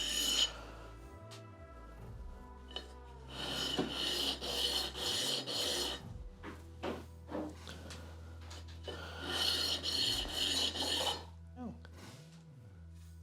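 A file rasps along the edge of a wooden guitar neck to remove the burr, in close repeated strokes of harsh scraping in bursts separated by brief pauses.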